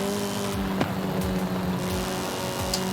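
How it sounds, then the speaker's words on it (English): A Nissan Z in Forza Horizon 5 drives with a steady engine drone and faint tire noise, a continuous close car sound with no talk. "Yeah, it's a great engine. Great engine noise."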